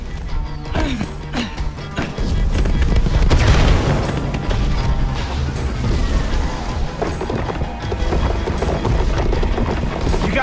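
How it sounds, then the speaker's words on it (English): Booming firework explosions and crackling bursts in Minecraft Story Mode pile up densely and loudly over a game soundtrack, continuing for several seconds. "Fireworks!"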